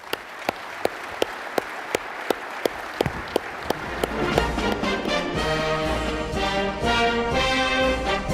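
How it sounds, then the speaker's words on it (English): Audience applause breaks out at a military training and simulation conference's opening ceremony, starting as a few sharp, evenly spaced claps and swelling into sustained, dense clapping from a large crowd. "how about a round of applause?"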